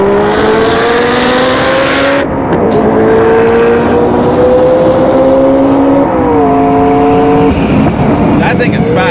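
Loud high-horsepower race cars, including Supras, roar and rev, their pitch climbing and shifting as they accelerate nearby at a night race in Mexico, with crowd voices underneath throughout.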